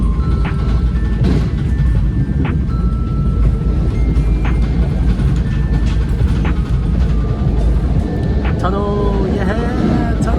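Interior of a commuter train heading into New York City, a steady rolling rumble with clicks and squeals of the rails, while people talk over it.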